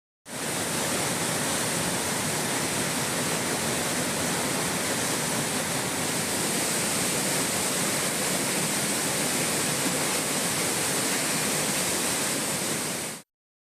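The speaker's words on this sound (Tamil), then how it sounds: "இதன் காரணமாக குற்றால அருவிகளில் வெள்ளப்பெருக்கு ஏற்பட்டுள்ளது." The flooded Courtallam waterfall in Tenkasi roars during the northeast monsoon, a loud, steady, unbroken rush of heavy falling water with no voices.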